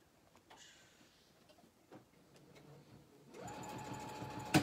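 A sewing machine stitches a pillowcase, starting with light scattered ticks and soft handling noises, then settling into a steady, close, moderately loud mechanical whir and patter for the last second or so.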